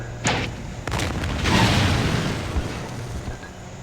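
A deep booming blast goes off as a robot is shot in Thief 2: The Metal Age, with a sharp onset and a low rumble that fades over several seconds.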